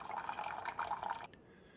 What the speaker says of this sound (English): there's what a nice clean K Classic should look like when water's coming out